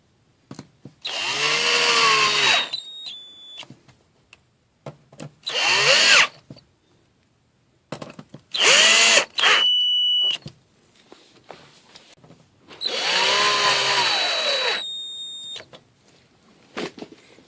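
A power drill drives screws into the back of an LG 60LS5750-UB television during a board replacement, whirring in four separate bursts of a second or two each, with quiet pauses between and no talking.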